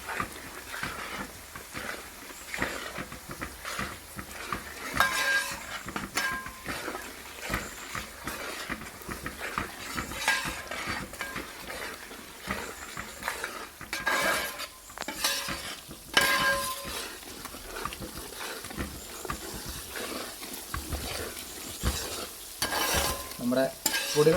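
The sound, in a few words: chili powder and pickle powder roasting in a pan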